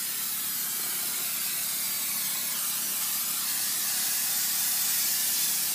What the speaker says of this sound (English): I'm going to spray my corners because I want a good tight fit.